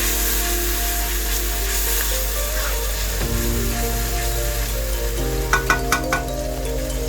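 Ground spices and coconut powder are stirred and fried for duck bhuna, with a constant loud sizzle over a low hum and a few quick scraping clicks near the end.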